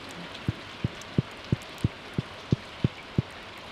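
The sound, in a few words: rain falling in Stardew Valley video game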